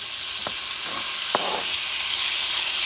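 Alligator meat sizzles in extra virgin olive oil over medium-high heat, a steady close frying hiss with a couple of soft clicks from stirring, and no talking.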